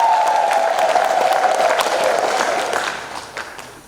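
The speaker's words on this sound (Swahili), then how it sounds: "Tumpigie Mungu makofi." Church congregation clapping together in praise, a dense, loud burst of applause from many hands that holds steady and then gradually fades out toward the end.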